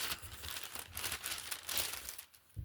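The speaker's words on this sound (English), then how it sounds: "So we're just going to remove the cardboard." Cardboard packaging for a Manchester City 2025/2026 authentic Puma home football shirt crinkles and rustles in close, quiet handling, with soft scraping and folding bursts.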